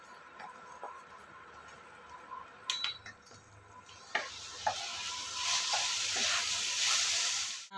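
Spices are stirred into tomato chutney in a frying pan, with a utensil clinking and scraping against the metal and a sizzle that swells to a steady fry in the second half.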